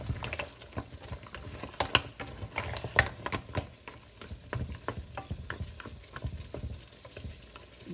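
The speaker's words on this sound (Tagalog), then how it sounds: "I-stir lang natin ito para sumama sa lahat ng seafoods ang sauce." Big New Zealand mussels and mixed seafood being stirred in a spicy bulgogi sauce, with repeated scraping clatters of a utensil against the pot in an irregular rhythm, close and fairly loud, no talking.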